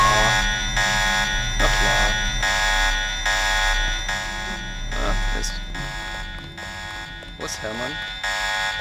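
An alarm blares in the video game Deus Ex, a loud, harsh buzzing tone pulsing in steady repeated bursts. Someone talks over it throughout.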